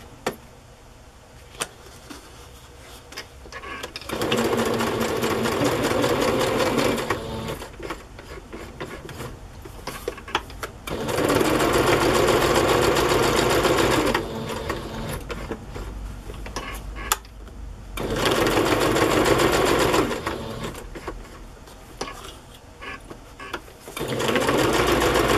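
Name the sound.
sewing machine sewing a label onto a pocket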